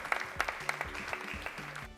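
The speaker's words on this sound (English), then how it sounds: "Let's give them a big round of applause as they come." A short burst of crowd applause, dense clapping from many hands at moderate volume, with a few louder claps standing out.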